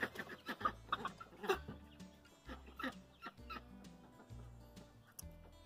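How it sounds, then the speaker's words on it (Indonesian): Two backyard chickens cluck softly nearby in short, irregular bursts of clucks, with brief pauses and quiet rustling between them. "Nah itu ayam kita tuh ada dua."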